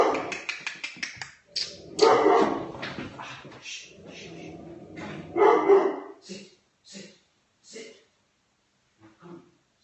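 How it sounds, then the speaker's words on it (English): An assistance dog in training as a companion for a child with autism barks several times amid loud, overlapping talk, followed by a few shorter, spaced sounds as things quiet down. "The dog is a assistance dog being trained to be able to be a companion to a child with autism."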